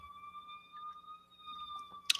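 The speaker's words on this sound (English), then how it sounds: "I should think that's an ambulance." An ambulance siren passing by, heard as a steady sustained wail holding a few fixed tones throughout, fairly faint and distant, with a brief louder burst of noise near the end.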